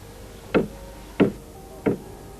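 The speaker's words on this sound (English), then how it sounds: "He knocked on the door." Three separate knocks on a wooden door at an even, unhurried pace, each a short dull thud standing clearly above a quiet background.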